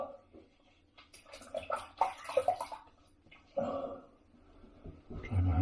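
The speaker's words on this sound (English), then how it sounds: "Excuse me while I rinse." Hands being rinsed under a running tap, bursts of splashing water between short pauses, close and moderately loud, with a person talking at times.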